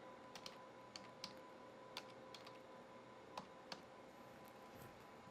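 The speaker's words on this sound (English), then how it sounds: "You'll use the keyboard to type up something." Computer keyboard typing in a quiet room while entering text into broadcast graphics software: a few sparse, light key clicks spaced irregularly over a steady faint background hum, with no voices.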